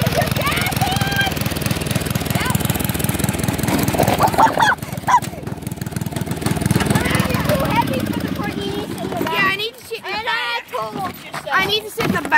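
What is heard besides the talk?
tractor engine running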